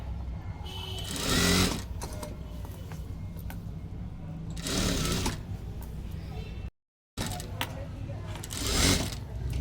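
A sewing machine stitches the round neckline of a blouse in short bursts, its fast motor whir and needle chatter rising and falling, broken by a brief stop, while someone speaks over it.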